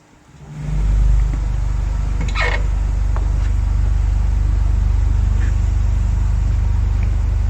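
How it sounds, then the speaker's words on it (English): A very deep, sustained tone from the largest pipe of the Shrewsbury Abbey organ swells in and holds steadily, a loud low rumble filling the space with faint background noises. "This is the largest pipe on the organ."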